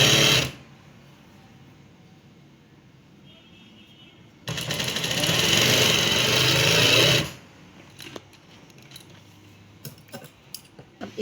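A sewing machine stitches lace and dori piping onto a dress, running in one loud continuous burst of about three seconds, with quieter handling noises and light taps of fabric before and after.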